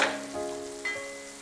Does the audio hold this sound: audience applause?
no